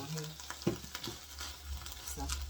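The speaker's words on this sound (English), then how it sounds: "I got onions on here. So they're going to sweat that out a little bit." Onions sweat in a hot pan with a soft, steady sizzle, broken by a few light clinks and stirring scrapes, faint and close.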